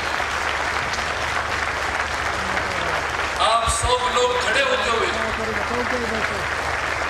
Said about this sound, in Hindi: जोरदार तालियों से मैं समझता हूं बोलने की भूमि।